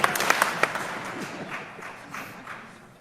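Audience at the 2023 Idaho State of the State speech breaks into scattered clapping and light applause with a few sharp claps at the start, fading to a murmuring room.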